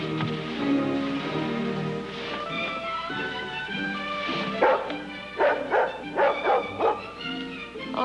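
A dog barks several times in a quick series near the end, rising over a busy background of music and indistinct sound.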